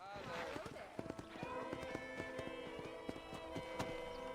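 Horse hooves clop in the video game Red Dead Redemption, a quick run of close hoofbeats under someone talking, with game ambience and music behind.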